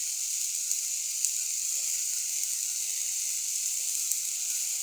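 Spices, ginger and garlic sizzle steadily in a hot pan while being sautéed, a continuous bright hiss with a few faint pops, moderately close and with no talk.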